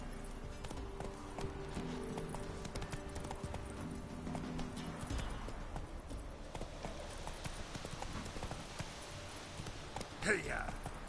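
Roach, a horse in The Witcher 3, gallops with rapid, steady hoofbeats under game ambience, and a voice speaks near the end.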